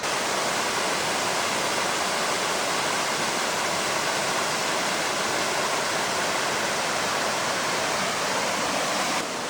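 Steady, roaring rush of a waterfall on a whitewater river, loud and close, filling the whole scene without pause.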